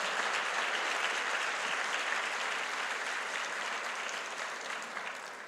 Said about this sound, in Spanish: Podemos dar fuerte ese aplauso al Señor